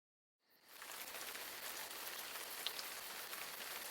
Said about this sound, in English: Rain drummed loudly on the roof of the Land Cruiser